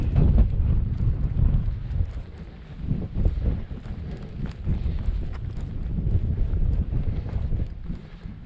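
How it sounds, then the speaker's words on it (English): Strong gusty wind buffets the microphone on an open English mountainside, a loud continuous low rumble that swells and eases without a break, with no voices. "that wind's starting to pick up"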